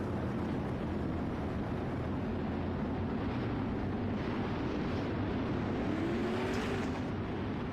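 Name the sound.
360 winged sprint cars racing, from iRacing video game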